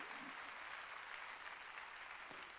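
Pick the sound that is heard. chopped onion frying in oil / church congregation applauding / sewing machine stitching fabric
church congregation applauding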